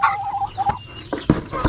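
A chicken or other fowl calls in a short, near, warbling burst of clucks and gobble-like notes outdoors near a mangrove swamp during crab catching.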